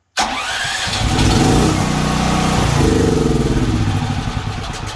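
A gasoline generator cranks and catches, then runs steadily at a loud, close, even engine roar with no voices over it.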